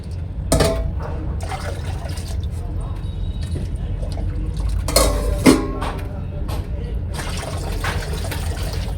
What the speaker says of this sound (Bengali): গরম জল মিশালাম